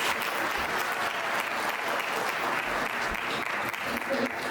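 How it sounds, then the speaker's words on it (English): Audience at a Diwali celebration applauding children after their chanting performance, a full, steady round of clapping filling the room, with some murmured voices underneath. "Give them a big round of applause"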